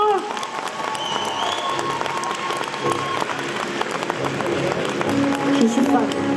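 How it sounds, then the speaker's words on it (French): A festival audience applauds a cosplayer with sustained clapping that runs the whole way through. A voice talks over the applause, and some scattered cheers and whistles rise near the end. "Je demande un tonnerre d'applaudissements pour Amazon encore une fois."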